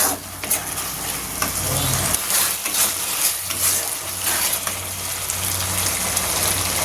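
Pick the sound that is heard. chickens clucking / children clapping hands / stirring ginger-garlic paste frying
stirring ginger-garlic paste frying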